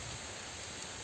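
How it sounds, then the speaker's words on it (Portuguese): Rain falling outdoors makes a faint, even hiss that holds steady throughout the brief moment, with no talking over it. "está chovendo, mas graças a Deus vamos seguir com a lição"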